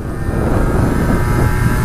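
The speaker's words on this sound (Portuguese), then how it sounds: "Eu estou a andar no meu LC de origem" A Yamaha DT LC 50 two-stroke motorcycle is ridden up close, its small engine buzzing loudly and steadily with slight rises in revs, with no voices over it.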